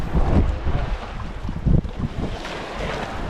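Rough sea with breaking waves and gusting wind around a small fishing boat out squid fishing for tuna bait, a steady broadband wash with heavier surges and microphone buffeting, no voices.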